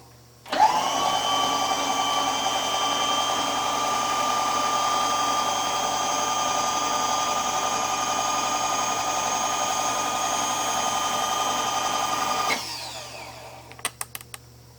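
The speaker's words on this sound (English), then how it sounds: "Put the drill chuck back in here and countersink." A drill chucked in a machine countersinks a hole for a ski rack on a Sanger ski boat. It spins up to a steady high whine, holds for about twelve seconds, then winds down, followed by a few small clicks.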